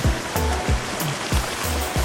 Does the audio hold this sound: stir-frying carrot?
no